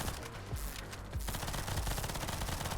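Automatic turrets in the game NIMRODS: GunCraft Survivor fire rapid bursts of gunfire, loud and dense, with sharp low thumps that merge into a steady barrage.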